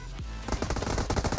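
Rapid automatic gunfire in a battle royale game, a fast rattling burst of close, loud shots after a brief pause, continuing in a dense rhythmic stream.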